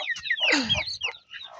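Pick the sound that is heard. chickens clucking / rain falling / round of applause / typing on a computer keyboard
chickens clucking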